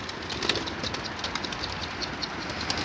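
Pigeons coo faintly in soft, repeated calls over a steady low background hum, with no one speaking.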